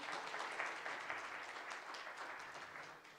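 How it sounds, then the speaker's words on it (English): Crowd applause at an environment day celebration in Rwanda, steady clapping from many people in an audience for award recipients, continuous and moderately loud for about three seconds. "Give them another hand of applause"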